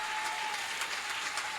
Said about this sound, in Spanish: Si ese es tu mejor aplauso